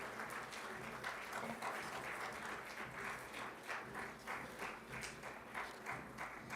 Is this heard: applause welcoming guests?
yes